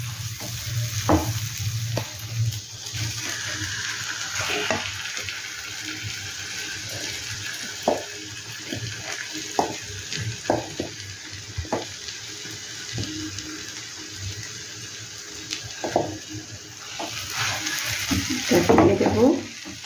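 Chopped chili and ginger for a pea kachori filling fry in oil in a pan, a constant sizzle under a long series of spatula clicks and scrapes, with brief faint voices and splashing toward the end.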